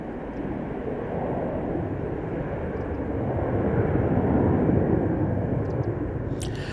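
An airliner departs Manchester Airport bound for Palma de Mallorca, a steady broad jet roar that swells slightly as it climbs past, heard from outdoors with some wind on the microphone.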